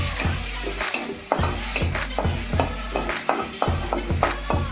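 Shredded cabbage is mixed by hand with turmeric and salt, producing repeated rhythmic rustling, squishing strokes close up with soft thumps against the bowl.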